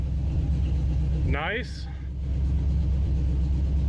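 A used, stock engine with a truck cam idles right after a distributor is installed, giving a steady, close, low rumble throughout; one brief spoken word sits over it.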